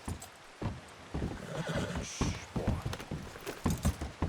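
A horse in Red Dead Redemption 2 whinnies loudly partway through, amid close, uneven hoof clops on the ground and shuffling movement.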